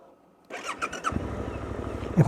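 A Suzuki V-Strom 800 motorcycle starts at the push of its button: a brief whirring crank gives way to a steady mid-pitched idle that settles in close and fairly loud, with no voices.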